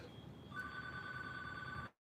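A phone keeps ringing with a continuous electronic ring, fairly clear over a low room hiss, before cutting off abruptly at the end, with no voices.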